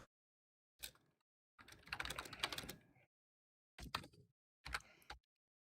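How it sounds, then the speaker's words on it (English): Quiet keyboard typing heard in short separate bursts of clattering key presses, with brief silent gaps between them, fairly faint and close. "I can hear you typing, right?"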